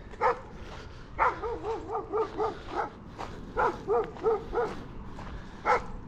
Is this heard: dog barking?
yes